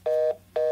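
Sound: phone making dialing or notification tones

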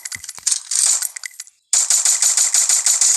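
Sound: gunfire in the video game Free Fire

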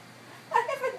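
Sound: cat meowing

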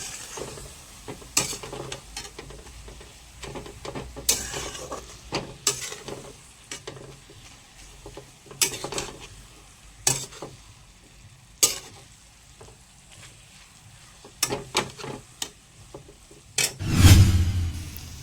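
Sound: carrots roasting in ghee, stirred in pan

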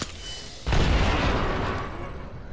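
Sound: frag grenade exploding in a video game

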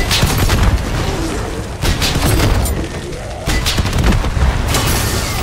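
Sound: RPG rocket fire and explosions in video game MW3 Zombies

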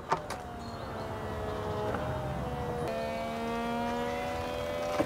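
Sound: BMW E46 convertible fabric roof mechanism operating

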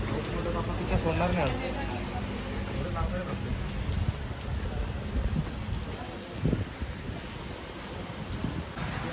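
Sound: rain falling near Kalsubai peak

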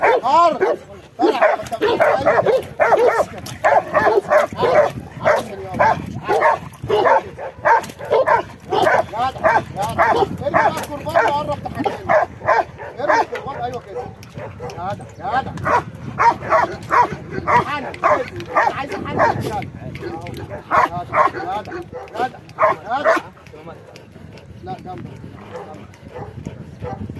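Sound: dog barking during guard dog training

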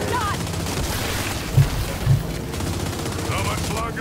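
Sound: gunfire in the video game Gears 5 Hivebusters

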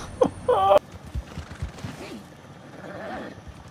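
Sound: horse neighing and hooves in video game Red Dead

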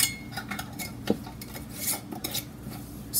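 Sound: placing a lid on a canning jar

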